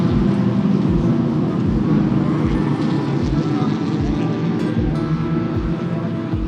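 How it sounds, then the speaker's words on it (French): Historic twin-cam race cars roar around the Nogaro circuit during a historic trophy race, a loud sustained engine drone with pulsing low-end beats as cars pass, heard alone without talk. "J'espère que vous entendez les twin cams."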